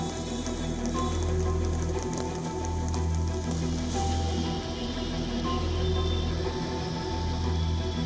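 A heavy rain downpour in Delhi makes a steady, dense roar that stays even and continuous, with a low rumble underneath and no voices.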